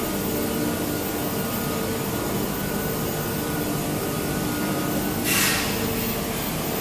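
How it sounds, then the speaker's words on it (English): Aluminium bar heating machine running in a factory, a loud, steady, close industrial roar with an airy rushing hiss, a brief hissing burst rising near the end. "this machine is our heating machine. We will put the bar into the machine"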